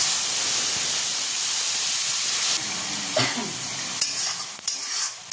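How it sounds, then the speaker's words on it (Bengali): Nigella seeds, green chilli and tomato fry in hot oil with a steady, loud sizzling hiss that drops slightly partway through, with a few stirring scrapes and clinks near the end. "আর এতে দিয়ে দেবো কালো জিরে, একটু ফোড়ন।"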